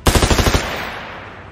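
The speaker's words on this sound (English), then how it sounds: "A volley of gunshots echoed around the room as two of the SEALs opened fire simultaneously." Rapid volley of gunshots in a room: about eight fast, loud bursts in quick succession, then a long echoing decay, with no talk.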